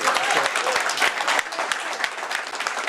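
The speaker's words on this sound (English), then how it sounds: "If the room can stand another round of applause right now" A room of people at a tech networking event breaks into a round of applause, dense steady clapping filling the space with no voices over it.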